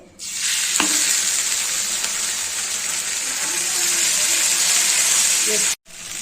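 Rice dosa (anna atlu) frying in oil on a pan gives a loud, constant close sizzle with a sharp tap near the start and a brief break just before the end.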